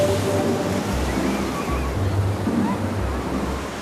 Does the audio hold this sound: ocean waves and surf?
yes